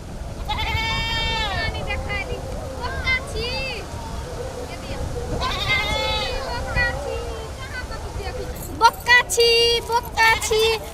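Several wavering goat bleats, fairly close, over a noisy outdoor background with people talking nearby.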